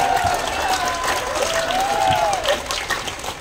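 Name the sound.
congregation applause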